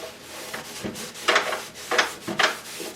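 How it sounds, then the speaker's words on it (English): A brush rubbing walnut wood stain into a wooden surface gives soft, close scrubbing strokes in three or four bursts, quiet and alone with no talk. "I'm just putting a little bit on the brush, and I'm just kind of like while it's still on there, I'm just kind of rubbing it off and trying to rub it in."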